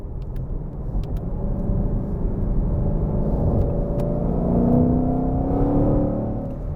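A 2021 Shelby GT500 accelerates with a deep, steady engine rumble that swells in pitch and loudness, heard from inside the car with a few faint clicks near the start.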